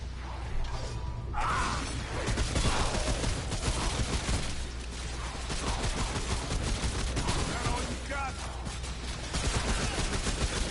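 Automatic rifle fire and turret shots crackle through a swampy firefight in Remnant: From The Ashes, dense and continuous bursts layered with impacts and whooshes, with players talking over it.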